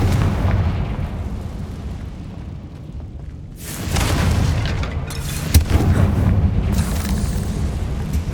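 Blasting-spell explosions from the Hogwarts Legacy video game, with deep booming bursts over a rumbling in-game background, one loud blast after a quieter stretch and further booms following close together.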